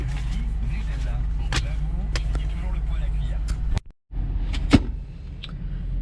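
A Jaguar S-Type R sedan with a 405 hp engine warms up, a steady low idle rumble close by, broken by a brief drop and a short thump, with a voice speaking over it.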